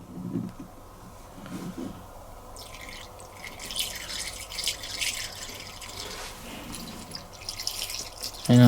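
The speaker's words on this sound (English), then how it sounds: "So, we'll pour our rinse aid in." Rinse aid poured into the dispenser of a Bosch Serie 4 SMS46MW05G dishwasher, a close, gentle trickle and gurgle of liquid that builds toward the end, with no one speaking.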